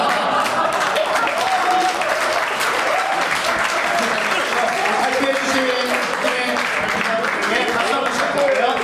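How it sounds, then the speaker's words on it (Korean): An audience at a startup weekend final pitch event applauds a presenting team with dense, sustained clapping that fills the whole stretch while a voice speaks over it. "팀의 박수 한번 부탁드려요"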